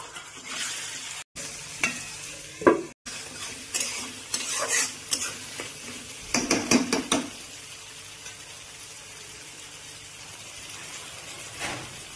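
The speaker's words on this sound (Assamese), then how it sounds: "এইটো হৈছে তেলৰ উতল" Small-cut potatoes fry in bubbling hot oil, a continuous sizzle broken by repeated stirring scrapes and clinks of a utensil against the pan, busiest in the middle and settling into a quieter fry toward the end.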